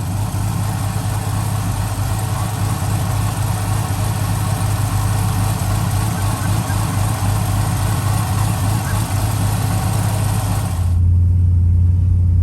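A box Chevy with an AlloyWorks radiator idles close by, a steady low rumble with faint fluttering that shifts slightly in tone near the end.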